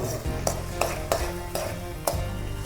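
Capsicum fries in a pan with a soft steady sizzle, broken by about five rhythmic spatula scrapes against the metal, close and fairly loud, with no voices.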